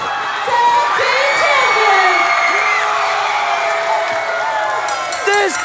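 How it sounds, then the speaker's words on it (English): OVW wrestling crowd at a Christmas Chaos tag team title match roaring wildly, with shrill whoops, high yells and screams layered over a loud, sustained cheer. "This crowd is losing their mind for Fanny Pack Party."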